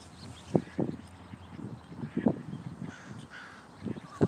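Crows call at a small lake in Monterey, giving harsh, repeated caws at irregular intervals from a moderate distance over faint background noise.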